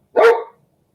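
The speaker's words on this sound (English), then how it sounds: "So sorry that my dog just barked at you." A single sharp dog bark indoors, loud and close, lasting a fraction of a second and followed by silence.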